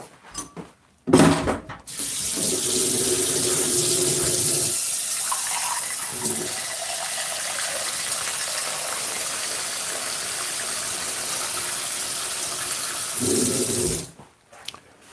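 Water gushes steadily from a kitchen tap for about twelve seconds during batch prep for an event. The flow is loud and close, its pitch shifting as the stream fills a container, and short knocks sit before and after it.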